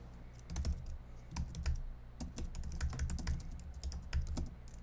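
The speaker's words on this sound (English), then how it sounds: "Just typing a message on the Philip DeFranco video" Fast continuous typing on a computer keyboard while writing a message, dense close key clatter in rapid irregular runs with brief pauses, no talking over it.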